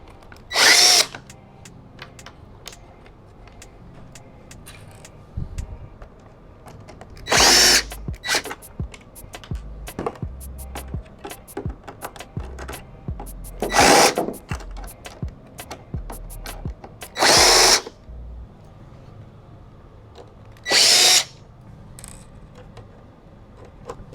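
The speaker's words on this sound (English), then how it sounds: "so I gotta remove those 6 screws here on the side" A power drill backs out six side-panel screws on a Solaris machine during front tank cleaning, sounding in short loud whirring bursts separated by quieter handling clatter and clicks.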